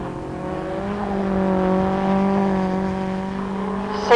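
Autograss race cars run on a dirt track, their engines making a steady sustained whine that holds loud and even throughout, with a sudden louder burst at the very end.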